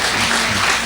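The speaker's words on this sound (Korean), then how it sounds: "그러면 뜨거운 박수로 오늘 강연자이신 신은미 선생님을 모시겠습니다." A brief burst of dense, steady applause from a lecture audience in a church, with no voices.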